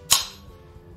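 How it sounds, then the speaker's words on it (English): One crisp hi-hat hit on its own, close and fairly loud, a short bright tick that decays quickly into quiet, with no talking. "you just hit the hi-hat on its own again."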